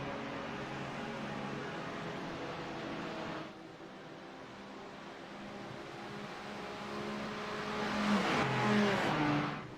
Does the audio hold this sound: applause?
no